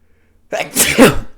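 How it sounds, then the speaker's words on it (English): A single loud, close sneeze bursts out after a moment of quiet. "Holy crap, I'm about to sneeze."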